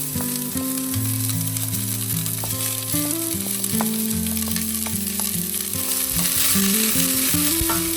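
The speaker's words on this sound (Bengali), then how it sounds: "ঠিক এই সময় আমি এর মধ্যে কেটে রাখা পেঁয়াজ অ্যাড করে দিলাম" Chopped onions dropped into hot oil with whole garam masala and dried red chilies, frying in a steady, loud, continuous sizzle, while tonal music plays throughout.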